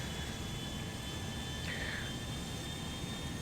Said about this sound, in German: Propellerflugzeug.